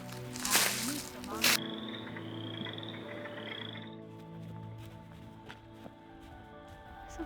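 A frog croaking outdoors near water, a few loud close rasping calls followed by quieter scattered croaks over a low background hum, with a voice speaking softly.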